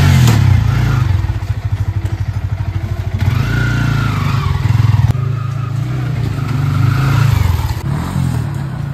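A motorcycle engine runs steadily close by, a low throbbing drone with rattling clatter and slight swells in revving across the stretch, with no voices over it.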